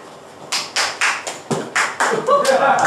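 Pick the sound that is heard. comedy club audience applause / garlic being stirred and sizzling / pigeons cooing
comedy club audience applause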